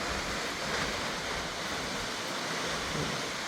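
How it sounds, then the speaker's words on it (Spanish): A tall waterfall in Chile seen from a forest lookout, a steady broadband roar of falling water, constant and fairly loud with no talk. "Una caída de agua súper alta."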